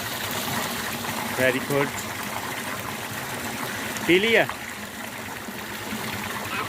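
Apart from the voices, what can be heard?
water flowing from the ground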